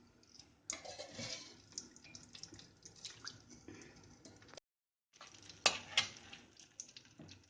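Ghee pours and sizzles into a hot metal wok, with scraping and clinking of a utensil, a brief silence, then more sizzling and stirring.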